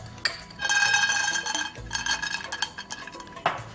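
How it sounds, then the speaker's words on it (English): Peanuts rattling and clinking in a hot dry pan, bright metallic scraping and tinkling in close, loud bursts with a brief pause midway and a sharp clatter near the end, no voices. "That'll help dry roast the peanuts even quicker."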